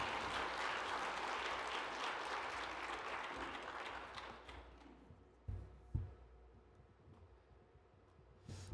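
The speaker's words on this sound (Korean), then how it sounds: "큰 박수로 선교사님을 맞이하도록 하겠습니다." A church congregation applauds to welcome a missionary speaker, a dense burst of many hands clapping that fades out after about four seconds, followed by a few scattered thumps in a quieter hall.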